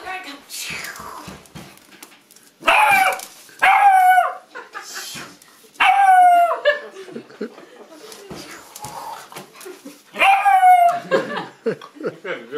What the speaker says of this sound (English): You've got a good bark.